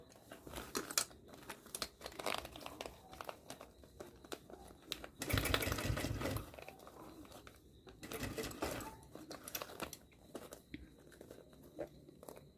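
An electric sewing machine stitches a fabric school pencil case in several bursts of rapid needle clatter, with pauses, crinkling of the material and small handling clicks between runs.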